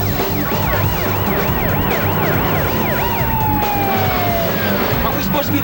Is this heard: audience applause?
no